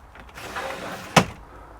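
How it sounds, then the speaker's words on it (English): A caravan's fly screen door, on a Bailey Adamo 69-4, moved with a soft rustle and then shut with a single sharp slam, heard alone at close range. "Probably will have to open the door to demonstrate."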